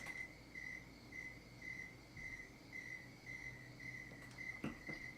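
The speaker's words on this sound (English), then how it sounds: "But the crickets are still working." Crickets chirp in steady, evenly spaced pulses throughout, moderately close over a faint background hum, with a brief knock near the end and no talking.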